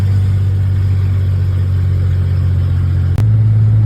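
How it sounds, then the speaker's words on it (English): A 1946 Hudson car engine idles steadily up close, a loud, even low hum with one brief dip and click near the end before the idle resumes. "The car is running great, and it started to idle finally"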